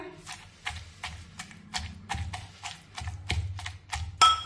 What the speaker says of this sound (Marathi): आता टोमॅटो आपण ठेचून घेऊया।